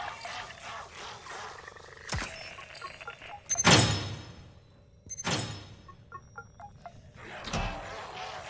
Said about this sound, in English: All that's left to do is to open the door and collect our loot.